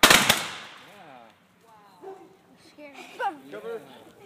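A volley of muskets fired together at a Civil War reenactment opens loudly with a sharp crackling burst that quickly fades, followed by spectators talking nearby.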